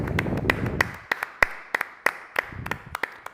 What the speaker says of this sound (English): applause for both players